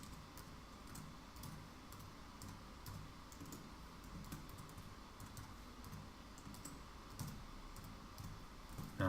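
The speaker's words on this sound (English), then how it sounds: "Let me type that in." Soft, steady clicking of a computer keyboard as an email address is typed during a live drawing podcast, a continuous patter of faint keystrokes over a quiet room hum.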